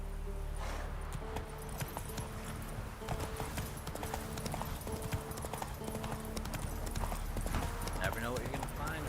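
Rhythmic hoofbeats of Roach, a horse galloping in a video game, clopping steadily and loudly throughout alongside game music and ambience, with a brief whinny and a voice talking over it.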